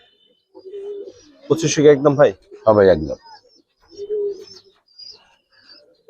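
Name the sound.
Giribaz pigeons cooing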